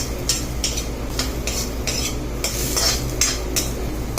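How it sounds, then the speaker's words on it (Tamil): Grated coconut being sautéed in a kadai for tomato-coconut chutney, a spatula stirring and scraping the pan in repeated close strokes over a soft steady sizzle, with no talk. "இதில் இந்த தேங்காவை சும்மா லேசாக வதக்கிங்க ஃப்ரெண்ட்ஸ்"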